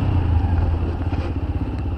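An Apache 160 4V motorcycle with ABS braking hard on a dirt road, its engine rumbling close and loud, with a brief rough skidding burst partway through and no talking.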